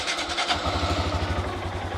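A Honda Grom motorcycle, just after an oil change, cranks and fires up, then settles into a steady, pulsing single-cylinder idle close by, with no talk over it.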